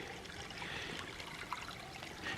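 Water trickles steadily at a forest waterfall in Bankhead National Forest, Alabama, a continuous, moderately quiet rushing wash with no voices.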